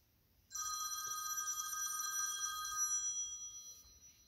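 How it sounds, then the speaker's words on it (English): A bright electronic phone ring trills continuously for about two seconds, then fades with a short echoing tail. Clear and close, nothing else underneath. "Old phone."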